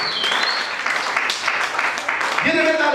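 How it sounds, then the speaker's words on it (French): A church congregation applauding loudly, a dense steady patter of clapping that runs throughout while a voice speaks over it. "Acclame très fort."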